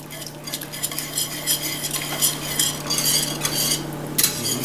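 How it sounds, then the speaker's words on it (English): Whisk stirring whipping cream into a shrimp étouffée sauce in a pot, with continuous scraping and clinking against the pan and a soft sizzle underneath, close and busy with no talking. "go ahead and add a cup of whipping cream. Go ahead and whisk that in."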